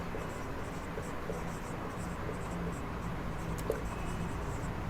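A pen writes on a board while a maths problem is worked out, giving a faint, continuous scratching with small strokes under a steady hiss of background noise.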